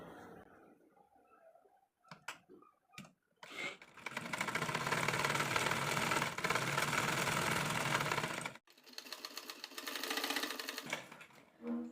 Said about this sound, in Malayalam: എന്നിട്ട് നമുക്ക് ഒരറ്റം മുതൽ മറ്റേ അറ്റം വരെ സ്റ്റിച്ച് ചെയ്ത് കൊടുക്കാം